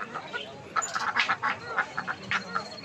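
Pekin ducks quack loudly and close by at a busy poultry market, a run of short, overlapping calls that come in quick bursts with no talk between them.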